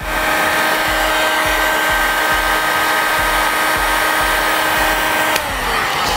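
Heat gun or hair dryer blowing hot air onto adhesive on an iPhone 6 Plus skin, a steady loud motor hum and airflow roar with a faint whine, continuous and close with no talking.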